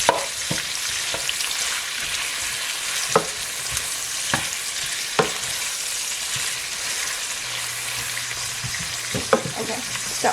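Bacon and onions frying in bacon fat for collard greens, a constant loud sizzle broken by sharp scraping knocks as they are stirred, close by, with no talking.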